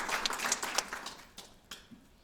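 A ceremony audience gives students a round of applause, a fairly faint, thin patter of scattered hand claps that trails off over about two seconds.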